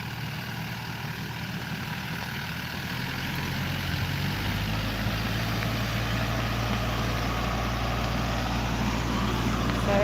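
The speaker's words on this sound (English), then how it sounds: "This person on this tractor is mowing the lawn." A ride-on tractor mows a lawn nearby, its steady low engine drone holding constant for the whole stretch and growing slightly louder toward the end, with no talk over it.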